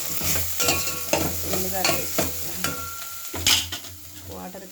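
Carrot and soy chunks with bay leaf fry in deep oil, a steady close sizzle broken by repeated scrapes and stirring knocks of a utensil against the pan, with one brief spoken word.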